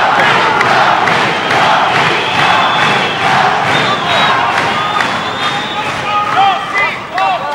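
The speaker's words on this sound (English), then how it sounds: "You can hear the crowd from Lorcy in the" A boxing crowd roars and cheers continuously during a fight between Arnulfo Castillo and Julien Lorcy, loud and dense, with an announcer talking over it and some whistles near the end.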